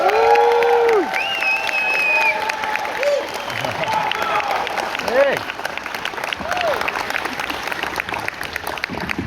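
A convention panel audience at Supanova Adelaide applauds steadily and loudly throughout, with cheering and shouts of the crowd mixed into the dense clapping.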